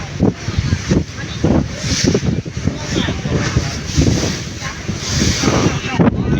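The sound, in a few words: huge waves of the Meghna river during a launch trip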